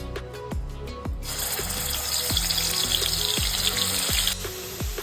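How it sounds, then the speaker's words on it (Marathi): Onion tomato puree sautés in oil in a kadhai, giving a continuous close hiss and bubbling, punctuated by repeated metallic taps of a spoon against the pan in an irregular rhythm. "आता आपण कांदा टोमॅटोची प्युरी करून घेतली आहे, ते आता परतून घेणार आहोत।"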